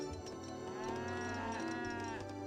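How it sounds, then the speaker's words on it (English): Sacred cows in the Age of Empires 3 strategy game moo in long, drawn-out, overlapping lowing calls that fill the whole stretch steadily over a continuous game soundtrack. "Oh, just build another round of sacred cows."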